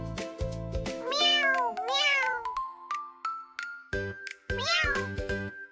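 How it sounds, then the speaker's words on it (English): A cat meows three times, close and loud, with drawn-out rising and falling calls separated by short pauses and a faint tinkling in between. "C is for cat."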